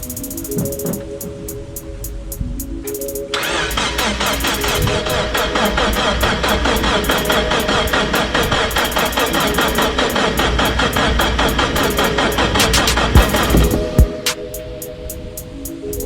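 A rebuilt car engine cranks over and catches after a few seconds, then runs with a loud, steady, rattling mechanical roar at close range before cutting off near the end.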